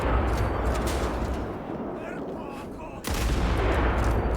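Loud, dense gunfire and explosions from the Indiana Jones and the Great Circle video game, a sustained roar that dips briefly and then surges back with a sharp blast.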